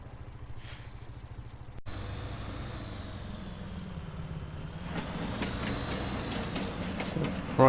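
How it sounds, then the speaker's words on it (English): A train in the Farming Simulator 19 video game on the Midland map rumbles past, a steady mid-level rolling roar that swells in its second half with rhythmic rail clatter, heard alone. "And that train comes tearing past every few minutes."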